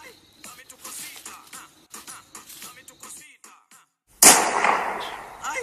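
A single sharp gunshot bursts out loud and close in a video game after a stretch of quieter rustling and footstep-like ticks, its harsh blast trailing off over the last second.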